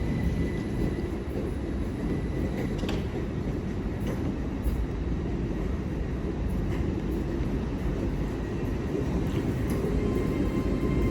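A London Underground Hammersmith & City line train comes into a London terminus, giving a steady, loud rumble of rail noise with faint clicks and squeaks over it.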